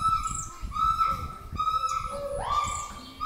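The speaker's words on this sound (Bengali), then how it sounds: "ময়না পাখি কিন্তু খুব সুন্দর ডাকতে পারে" Pet myna birds calling loudly in a repeated series of whistled, squawking notes, fairly close by, with a longer rising call near the end.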